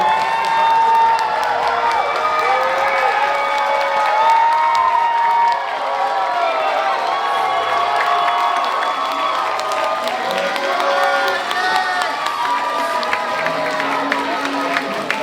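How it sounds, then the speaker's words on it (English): Applause and cheering from a crowd honoring graduates at a UC Davis Filipinx graduation ceremony, continuous clapping with whoops and shouts layered over it throughout. "Everyone please rise and give a round of applause to the graduates"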